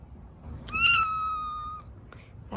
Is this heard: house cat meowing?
yes